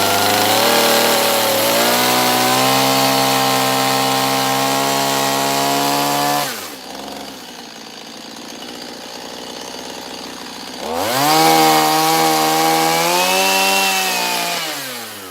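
A chainsaw cuts a small wood carving, its engine snarling loudly at high revs for several seconds, dropping to a lower, muffled idle for a few seconds, then revving back up into another cut.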